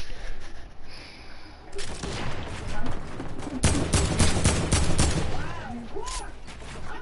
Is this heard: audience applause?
no